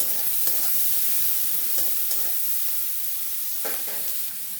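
Shrimp and other ingredients fry in a pan with salt and turmeric, steady close sizzling broken by repeated scraping, stirring clicks of a spatula throughout.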